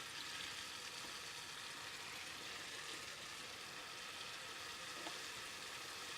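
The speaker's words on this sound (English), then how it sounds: "I'm going to drop my beef in the corn flour into the hot oil" Cornflour-coated beef strips sizzle in hot oil, a dense, even crackling hiss that continues steadily without pause, with no talking.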